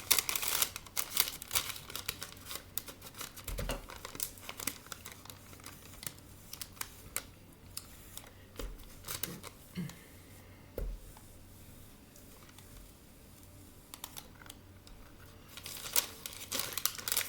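Scissors snip through paper trimmed along the edge of a 4x4 chunky canvas being decoupaged, giving scattered crisp cuts and crinkles, close and fairly quiet with no talking.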